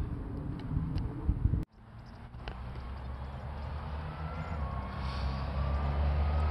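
A loud car or motorcycle passes near an outdoor spot, its low engine rumble swelling steadily toward the end after a sharp knock, with no talking.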